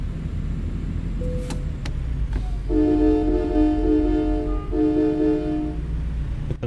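A semi-truck air horn sounds in American Truck Simulator while the truck drives at night, with several short tonal blasts and then a sustained, loud multi-tone blare over the steady rumble of the engine.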